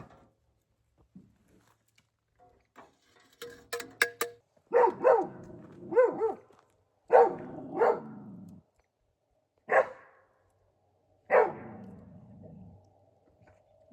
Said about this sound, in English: I don't even know what he's trying to bark at